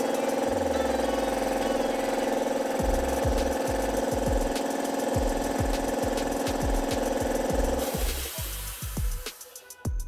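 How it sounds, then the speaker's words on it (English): An air compressor runs after an intake gasket repair with a loud, steady motor drone and rapid rhythmic pumping pulses. Near the end it shifts and sputters as it slows. "we're going to go ahead and kick this thing on and make sure the intake is only doing what it's supposed to do"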